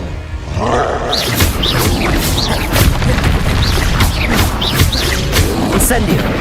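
Repeated booming blasts and crashes from the Confringo fire spell in the video game Hogwarts Legacy, rapid and loud in a dense, continuous barrage, with a voice calling out over the explosions.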